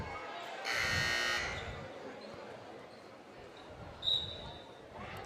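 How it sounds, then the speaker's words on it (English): A loud electronic buzzer blares for under a second over crowd noise at a high school basketball game, White County vs. Smith County, followed by a brief high whistle-like tone. "It always confuses me when their buzzer goes off"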